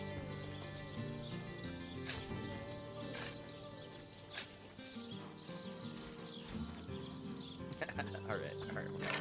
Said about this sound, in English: It was a sheep.